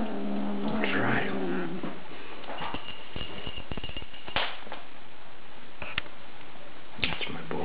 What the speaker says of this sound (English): This is a big tough kitty.